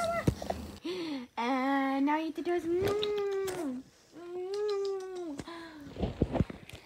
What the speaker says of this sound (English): get that cat away from me